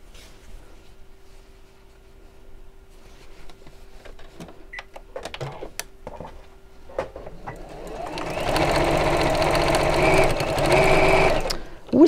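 Sewing machine stitching a seam around a fabric lining at a quarter-inch allowance, the motor whirring loud and steady through the last few seconds after quieter handling noises and faint clicks.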